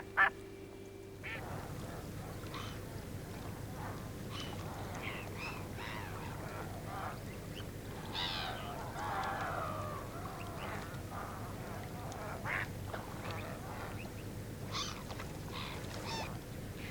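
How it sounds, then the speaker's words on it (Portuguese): Mallard ducks quacking in the Tagus estuary nature reserve in Portugal, scattered raspy calls at moderate distance over a steady outdoor background hiss, with no talking. "O pato real, a espécie de patos mais comum em Portugal"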